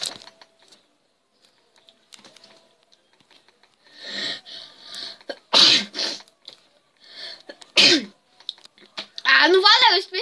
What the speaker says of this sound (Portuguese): Ah, não valeu, eu espirrei.